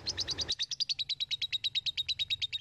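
A lovebird chirps in a rapid, regular series of sharp, bright tweets, around two dozen in quick succession, close and clear; a brief low background murmur drops away after the first half second.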